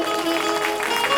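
A brief burst of steady, dense audience clapping at a Bhagavat Katha religious gathering in Manegaon, Chhindwara, heard together with a sustained musical tone.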